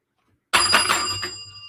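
A bell is struck once during a live online show, giving a sharp bright ding that rings out and slowly decays after a moment of silence.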